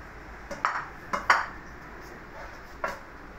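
Egg fried rice is served into a dish: a utensil clinks and taps against the dish several times, with light scraping between the bright clinks, against a quiet background.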